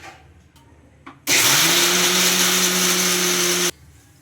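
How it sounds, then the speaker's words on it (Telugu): A mixer grinder whirs loudly and steadily for a couple of seconds grinding chutney, starting and stopping abruptly, with quiet clatter beforehand and no voices. "ఇప్పుడు మూత పెట్టేసుకొని గ్రైండ్ చేసుకుందాం"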